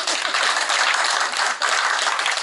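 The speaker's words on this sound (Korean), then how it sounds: "대통령이 태어났다는데 박수 치는 사람" People in a Daegu tour group at Yuk Young-soo's birthplace break into applause, many hands clapping in a loud, continuous patter with one brief dip midway before it picks back up.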